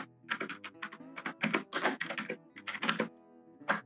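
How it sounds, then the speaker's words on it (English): Someone types a short search entry on a computer keyboard, crisp clicking keystrokes in quick irregular bursts with brief pauses, close and clear with no talk. "In the search box, I'm going to type Cuyahoga Falls"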